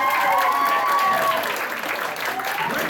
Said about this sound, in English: so let's give a round of applause.